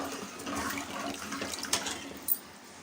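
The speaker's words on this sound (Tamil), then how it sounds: "தண்ணி நல்லா கொதி வருது" Salted water comes to a boil in a cooking pot, giving a steady low bubbling and hissing with a few sharper pops, close and fairly quiet.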